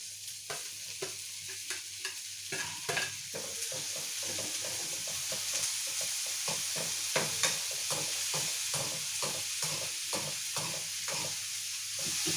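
Tomatoes sizzle and fry in a pan with a steady hiss, broken by repeated scraping stirs of a utensil against the pan, close and continuous without any talk.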